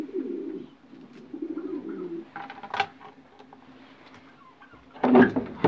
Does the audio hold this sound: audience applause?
no